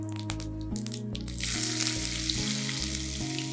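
Chopped onions fry in a pan with a bright, steady sizzle that rises and thickens partway through, close and continuous, with no talking over it.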